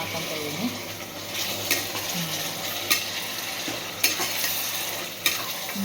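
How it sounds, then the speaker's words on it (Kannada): Mutton sizzling and frying in oil in a pot for biryani, a steady close hiss broken by regular scraping stirs of a spoon, with a voice talking faintly in the background. "ಇದು ಚೆನ್ನಾಗಿ ಸ್ವಲ್ಪ ಬಾಯ್ಲ್ ಆಗಬೇಕು ಮಟನ್ ಎಣ್ಣೆಲಿ"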